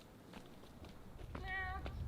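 A single cat meow rises clearly near the end, preceded by soft rustling and faint background noise, outdoors in Amasya, Turkey.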